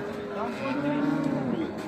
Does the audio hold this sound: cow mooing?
yes